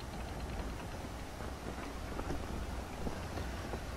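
Steady rain pours onto a raft out on stormy open sea, a dense, constant hiss with wind and rolling water underneath, no voices.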